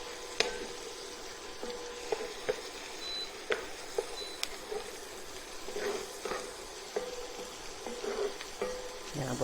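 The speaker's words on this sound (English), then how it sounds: "just going to saute them for a minute" Mushrooms sauté in a pan with a soft, even sizzle, dotted with light taps and scrapes from a utensil moving them around.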